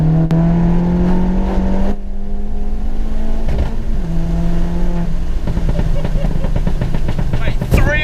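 A tuned 315 BHP VW Polo GTI pulls hard along a road, its engine note rising through the revs with a gear change midway and a crackle near the end, heard loudly from inside the car.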